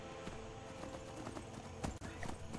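Rhythmic clip-clop of horse hooves sounds while riding along a path in the video game Skyrim, steady and moderately close across under three seconds, with no talk.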